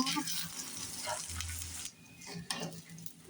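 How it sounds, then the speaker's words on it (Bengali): Rice fries with spices in a pan on a stove for chicken biryani, a close, soft sizzle with scraping stirs and a brief clatter near the end. "এখন আমরা পাশের চুলায় চালটা ভেজে নেব।"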